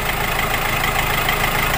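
A Hyundai Accent CRDI turbo diesel hatchback idles just after starting during a DIY oil change, a steady, close, loud diesel rumble with an even clattering texture and no voices.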